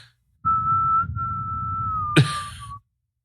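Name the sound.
person imitating a whistle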